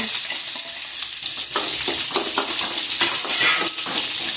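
Chopped onions sizzle and fry steadily in a hot pan for ragi adai, with occasional stirring scrapes and crackles, loud and close with no voices.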